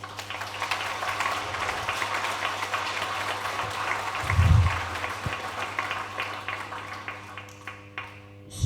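A church congregation at a Sunday Easter-season Mass claps for a parishioner's testimony, a moderate, diffuse spread of applause with a low hum underneath and a brief low thump midway, fading toward the end.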